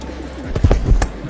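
A pigeon gives a short, low, throaty coo, close and fairly loud, with a couple of soft muffled thumps mixed in.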